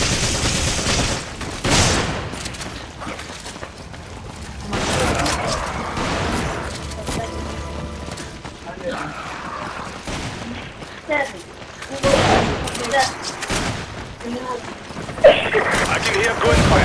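Gunfire from the online versus mode of Resident Evil 5 comes in bursts and scattered shots over several seconds, some louder and some further off. Players talk over the shooting throughout.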